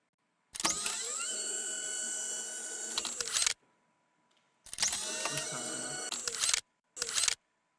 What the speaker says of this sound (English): I'm just looking for something that's kind of like a small servo sound. For the mechanics of the robot arm there.